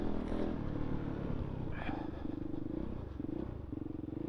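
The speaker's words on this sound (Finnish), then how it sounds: "Kuuluu myös pakoputken äänet, eikä pelkät imuäänet." A Kove 450 Rally motorcycle with a titanium exhaust chugs at low revs, a moderately loud uneven rumble with a short rev and rhythmic pulsing near the end.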